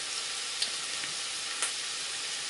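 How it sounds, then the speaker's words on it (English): Sausage browning in olive oil in a pan, a steady soft sizzle and hiss of frying throughout with a couple of brief louder pops, close and alone without talk. "of olive oil in my pan back there. That's where I'm going to brown my sausage."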